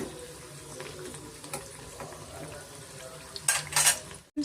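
Crisp avarekalu nippattu rice crackers frying in hot oil, with a quiet steady sizzle, a few light clinks of a utensil against the pan and a louder scraping burst near the end.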